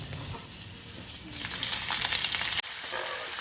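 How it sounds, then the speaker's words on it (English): Canola oil sizzles and crackles steadily as pork ribs fry in a pan on high heat, growing louder partway through, with a brief interruption near the end before the sizzling resumes. "I added some canola oil to my pan so we can start frying up my costillas"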